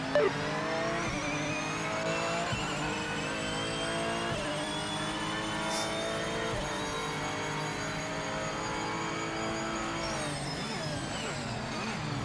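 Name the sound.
GT3 race car downshifting in video game Project Motor Racing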